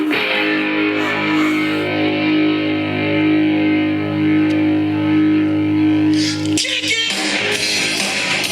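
A HomePod Mini speaker plays music at full volume, loud and close, with a steady tonal mix that shifts sharply near the end.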